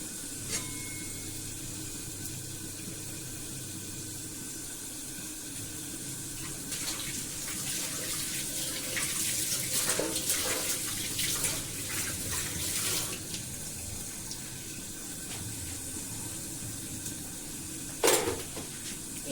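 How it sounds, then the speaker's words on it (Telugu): Water running in a home kitchen while chicken curry and tomato rasam are cooked, a low continuous hiss and splash that swells in the middle and carries a few sharper clinks near the end, with no voices. "న్యాచురల్ వాయిస్, వాటర్ది, ఉడుకుతున్నది, ఇట్లా వచ్చేది"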